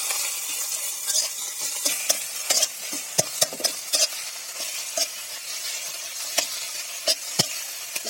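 Beaten egg sizzles and fries in a pan while being stirred and broken up with a utensil, steady frying hiss punctuated by repeated sharp scraping clicks, close and alone, for a Bangladeshi egg paratha.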